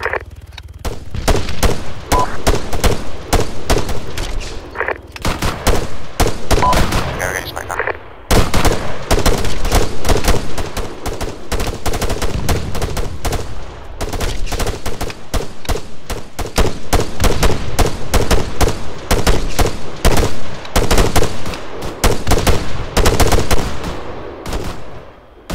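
Sustained covering gunfire rattles almost nonstop for the whole stretch, dense overlapping bursts and single shots firing loud and close with only brief gaps.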